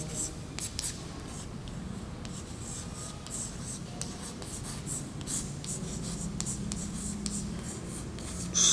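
Chalk or marker scratches in short repeated strokes across a board during a chemistry lesson, faint and close against a low room hum, with no speech over them.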